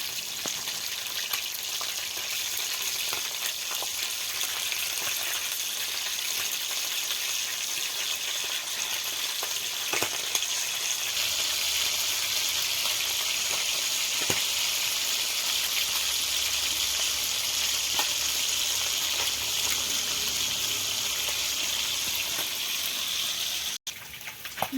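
Fish pieces fry in hot oil in a pan for a home-style fish curry, a steady, close hiss of sizzling and spitting oil that runs unbroken, with an abrupt cutoff near the very end.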